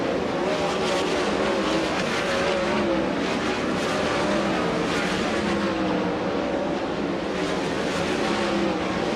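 World of Outlaws sprint cars at Angell Park Speedway roaring through a hot lap session, a loud continuous engine howl with rising and falling pitch as cars pass, filling the whole stretch with no pauses.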